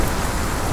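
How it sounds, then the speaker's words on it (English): Steady rain and stormy weather in the Sons of the Forest survival game, a dense continuous hiss of falling rain filling the brief moment, loud and even with no voices. "Well, we're getting some rain. It's dark. It's raining."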